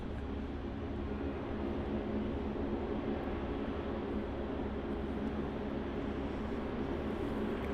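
A Virgin Australia Boeing 737 arriving at Melbourne Airport, heard as a steady, broad jet roar that holds level and fairly distant throughout, with no talk over it.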